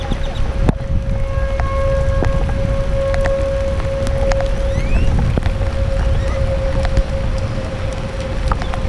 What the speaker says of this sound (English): That's a tornado siren